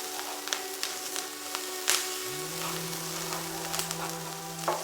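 Onion frying in a pan for a vegan spanakopita filling, with a steady, close sizzle and crackle running throughout and a few light stirring clicks and taps.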